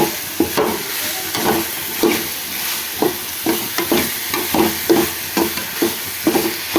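Mushrooms sautéing in a pan while a spoon stirs them, a loud close sizzle broken by regular scraping strokes about twice a second, with no talking.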